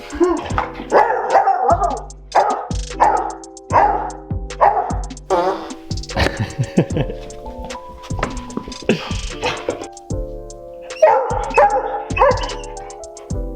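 A dog barks repeatedly in loud, close bursts beside a hot tub, the barks coming in quick rhythmic runs with someone talking between them.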